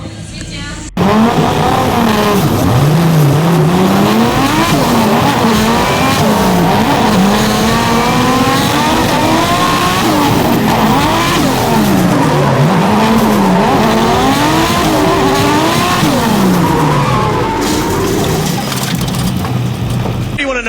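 A big V8 drift car at a drift competition screams along the track edge, engine note rising and falling continuously with tire squeal over roughly twenty seconds, loud and close, with voices talking in the background.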